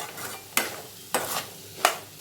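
Vegetables for rava kichadi are sautéed over a medium flame, with a soft sizzle under three scraping stirs of a spatula against the pan in a slow, even rhythm, heard up close.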